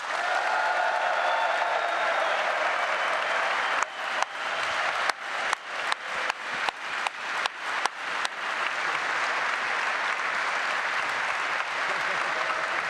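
Sustained applause from a large crowd at a Hertha BSC members' meeting, a steady wash of clapping with a run of sharp, evenly spaced louder claps through the middle, then continuing dense clapping.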